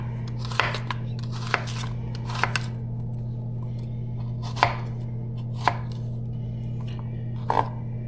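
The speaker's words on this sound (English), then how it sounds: "I'll go ahead and dice up the rest of this onion." Knife dicing a Vidalia onion on a cutting board gives sharp, distinct chops spaced about a second apart, close and crisp over a steady low electrical hum, with no voices.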